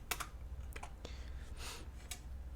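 Quiet, close keystrokes on a computer keyboard as a command is typed, a short irregular burst of clicks with a brief pause in the middle.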